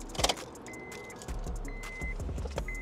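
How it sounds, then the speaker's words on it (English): A car key slides into the ignition with metallic keys jangling close by, followed by a few soft clicks and thin electronic tones inside the car, with no talking. "if I put the key in the ignition"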